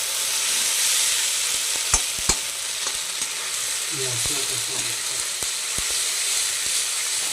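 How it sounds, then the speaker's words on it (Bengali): Spice masala for fish curry sautés in a pan with a steady, loud hiss of frying. A spatula clicks and knocks against the pan now and then. "এই যে মাছের মশলাটা কষানো হচ্ছে"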